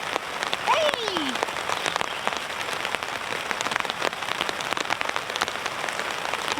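Steady rain patters on a surface at a snowy campsite, a dense, even hiss of drops close by with occasional louder taps, and no talk over it.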